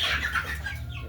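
Chickens clucking and calling in a large poultry house room, a steady dense chorus of many birds close by, with a low hum running underneath.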